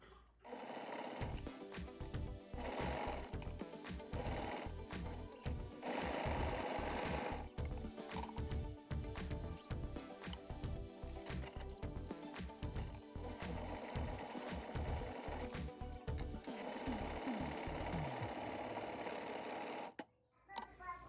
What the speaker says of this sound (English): I'm going to take this to my serger, and I'm going to attach both sleeves to the back